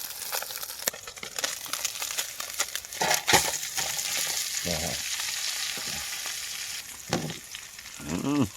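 Fish frying in a pan beside a small creek in the Sundarbans: a steady sizzle punctuated by sharp clatters and scraping stirs, with a few louder bursts of spattering.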